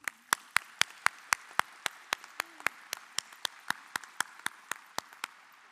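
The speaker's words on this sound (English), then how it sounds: "let's give them a round of applause" Sparse, even claps ring out one by one at a high school graduation ceremony, about three per second, sounding like a few hands rather than a full crowd.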